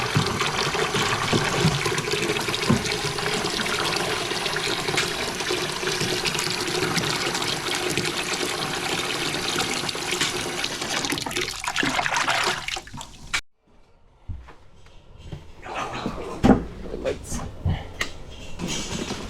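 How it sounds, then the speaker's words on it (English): Hot water poured into leftover mix in a barn, a steady loud splashing and running-water rush that stops abruptly, followed by quieter trickles and small clunks. "Add some hot water to it."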